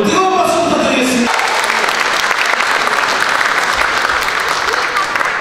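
Applause at a wedding ceremony, a loud sustained burst of clapping from a seated crowd that starts right after a host's voice over the speakers.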